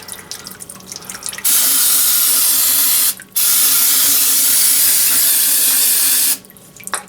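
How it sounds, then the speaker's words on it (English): Old fluid from a 2008-2011 Ford rear differential draining out in a loud, steady hissing splash, broken by a short pause and stopping before the end. "Now we're going to let all that run out and drain out"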